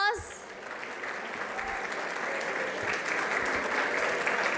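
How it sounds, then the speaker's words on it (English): A university panel audience applauds prize winners, sustained crowd clapping for several seconds after a brief opening sound, fairly loud and continuous. "Please give them a big round of applause."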